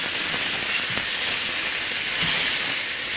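Chicken pieces sizzling in a hot pan while being flipped, a loud continuous hiss close by with no talking, for a peach-glazed chicken dish.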